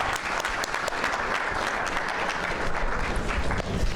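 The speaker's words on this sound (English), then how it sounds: "please give the panelists a round of applause" Summit audience applauding panelists, dense steady applause from a large crowd, sustained evenly for the whole stretch with no talking over it.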